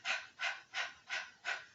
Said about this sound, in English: This is called breath of fire. Very rapid, rhythmic, in and out breath through the nose.